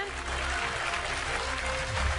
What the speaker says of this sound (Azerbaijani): heç də bundan az olmayan alqışlar Bəxtiyar Nəzərli üçün